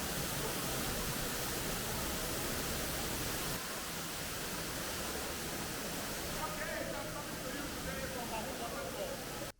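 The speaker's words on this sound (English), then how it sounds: "the most beautiful, magnificent waterfall called Awhum Waterfall" Awhum Waterfall in Enugu State, Nigeria, pours in a steady, dense roar of falling water that fills the whole clip without a break at an even, loud level.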